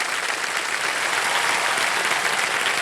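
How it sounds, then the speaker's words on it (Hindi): A studio audience on the game show Wheel of Fortune claps loudly and steadily throughout, a dense, even wash of applause with no voices over it. "जोरदार तालियां"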